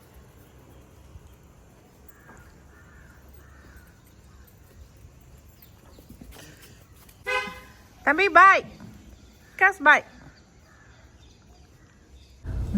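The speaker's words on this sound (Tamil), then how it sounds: "லைட் ஹவுஸ்க்கு மேலே பாரு, எவ்வளோ காக்கா," Several crows caw in a few short, loud bursts near the middle, heard above traffic hum near a lighthouse, with a passing horn-like toot and people talking briefly.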